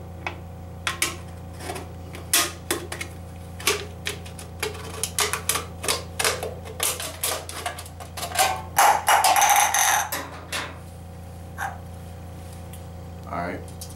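Sharp clicking snips and crunches of scissors cutting an aluminum can, irregular and close, building into a scraping burst of cuts near the middle, over a low hum.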